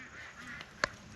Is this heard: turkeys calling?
yes